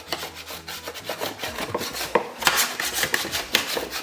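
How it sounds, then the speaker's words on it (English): Spatula scraping stuck slider rolls off the bottom of a pan, close, uneven metallic rasping strokes with a few sharper scrapes, no voices. "My rolls are sticking to the bottom of the pan a little bit, so I'm just gonna take a little spatula to get them up"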